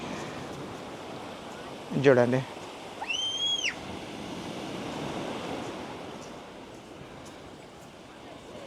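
Sea waves roaring near a backwater shoreline, a broad steady wash of surf and wind noise, with someone speaking briefly and a short whistle-like tone early on.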